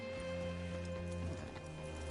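Horse hooves clop softly in a video game, a quiet rhythmic patter sitting under a steady musical drone for a couple of seconds.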